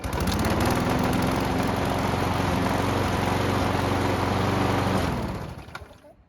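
A small petrol lawn mower engine, recently repaired after a stuck choke, runs steadily and loudly up close with a constant low drone, then cuts off and winds down near the end.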